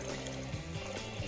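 Hot brown butter, just off the heat, is poured into bourbon for a cocktail, making a brief, soft liquid pour with faint trickling and bubbling close by.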